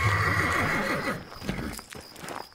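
A carriage horse gives a loud, wavering neigh, followed by hooves clopping on gravel in an uneven rhythm close by.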